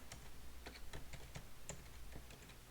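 Code is typed on a computer keyboard: quick, irregular key taps in a steady run, faint and close, with no voices.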